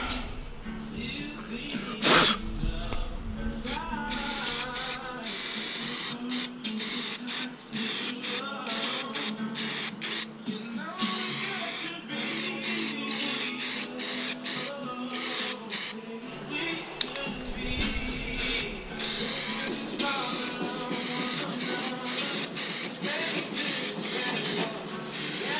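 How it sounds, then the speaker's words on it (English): Spray paint hisses in repeated bursts as primer goes onto the body of a 1988 Toyota pickup. The spraying is close and continuous for about 25 seconds, with short pauses. "Now I'm just going to lay primer over it."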